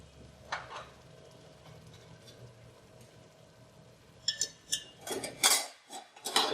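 A spoon scrapes and clinks against a pan of chicken curry masala being roasted in chicken stock, village-style Indian cooking; a few sharp metallic knocks land near the end after a quiet stretch.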